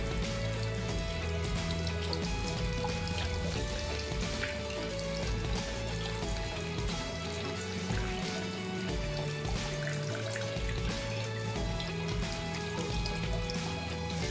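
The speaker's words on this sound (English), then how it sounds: "A bit of water on the back panel, on the camera module, on the sides, as well as at the bottom on the speaker grill" Water poured and dribbled over the back panel, camera module, sides, speaker grill and USB port of an Honor X9a 5G phone, a steady wet trickling and spattering that runs continuously throughout with no talk.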